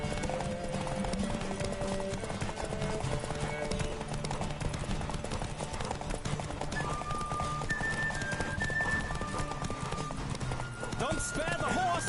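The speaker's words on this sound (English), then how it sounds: "Don't spare the horse!" Horse hooves galloping in The Witcher video game, a fast continuous clip-clop that runs throughout under game music and a character's voice, steady and fairly close.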